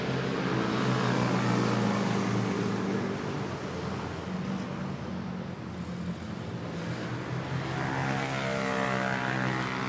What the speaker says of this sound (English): Oh, we have an overflight.